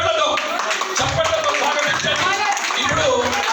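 An audience at a group event in LB Nagar breaks into welcoming applause, a steady patter of many hands clapping that runs under people talking.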